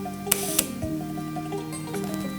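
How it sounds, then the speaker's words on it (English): An antique large format camera shutter is released, giving two sharp, close mechanical clicks in quick succession followed by faint whirring, over a soft steady tonal background. "by pressing the release, you'll have exactly the right shutter speed you have selected"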